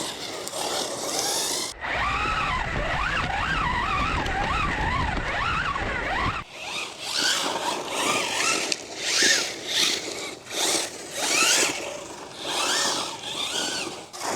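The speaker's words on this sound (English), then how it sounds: "It's a sound that I've never heard before on a 1/10 scale truck" A 1/10 scale RC truck drives outdoors with a whining electric motor that surges and fades as it accelerates and slows, sometimes steady, sometimes revving in short bursts, fairly close and loud with wind noise and no talking.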